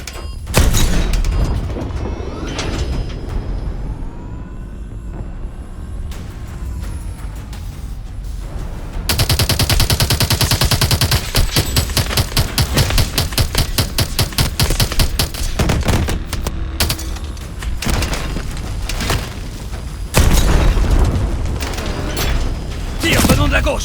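Rapid automatic gunfire and booming missile blasts from Call of Duty: Advanced Warfare, loud and dense throughout, with a sharp shift to heavier rattling fire midway and voices speaking over the combat.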